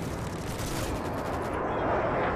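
Bombs fall during a stealth bomber run in Modern Warfare 3, heard as a dense, continuous roar of loud explosive rumbling with crackling blasts throughout.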